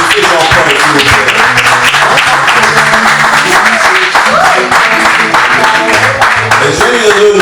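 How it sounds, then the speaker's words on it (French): Loud audience applause at a nightlife stage event, vigorous clapping and cheering sustained throughout, mixed with voices and background music. "Faites un tonnerre d'applaudissements"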